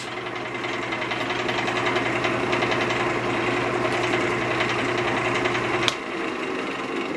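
A wood lathe turns an oak burl bowl blank at slow speed, giving a close, steady whirring hum with a fast rhythmic pulse from the wobbling piece; it stops abruptly with a short knock near the end.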